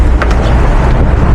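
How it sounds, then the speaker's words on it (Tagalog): Strong outdoor wind buffets the microphone in a loud, continuous low rumble that fills the whole moment with no voices. "Sobrang mahangin."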